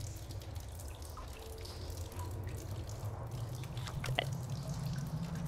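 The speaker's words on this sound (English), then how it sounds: "Do you hear that drip?" Water drips inside a cave in the video game RAGE, quiet repeated droplets over a steady low ambient rumble, with a few sharper drops standing out near the end.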